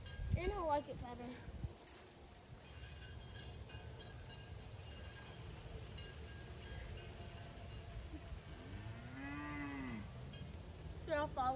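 Cattle on a farm moo several times, a low drawn-out call at the start and another longer rising moo later, moderately distant over outdoor background noise.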